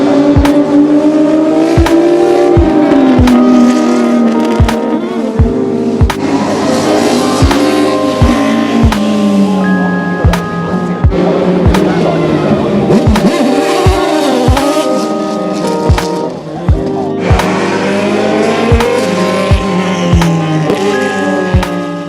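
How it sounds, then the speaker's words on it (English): Loud BMW race car engines, including BMW Formula 1 cars, rev and roar continuously up the Goodwood hillclimb, rising and falling in pitch as they accelerate past, with repeated sharp gear-change pops throughout. "Coming up are some of my favourite BMW race cars going up the Goodwood Hill."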